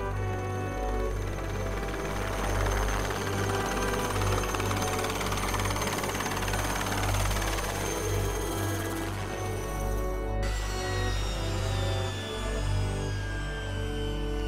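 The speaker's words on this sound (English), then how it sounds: "The helicopters disappear immediately after their Santa Claus act." A military helicopter roars steadily with deep rotor throb and a high whine, loud and close, and the sound holds without clearly fading as it flies off.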